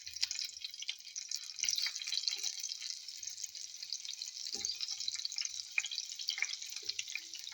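Green string beans fry in a pan with a steady, bright hiss of sizzling oil, a few faint taps and crackles scattered through, close and without speech.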